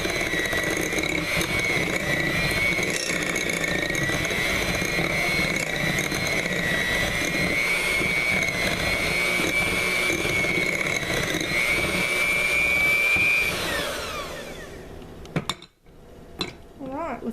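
An electric mixer beating butter with honey whirs steadily and close for about fourteen seconds, with a slowly shifting whine and some bowl clatter, then cuts off and a few clinks follow.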